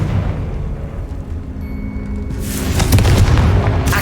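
A Confringo fire spell goes off in Hogwarts Legacy with a single heavy, booming blast about midway, its roar lingering to the end after a quiet lead-in.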